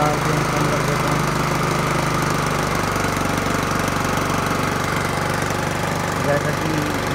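A TVS Jupiter 125cc scooter engine with a carburetor runs close by at elevated revs, a loud, steady, buzzing drone with an even mechanical chatter that holds throughout.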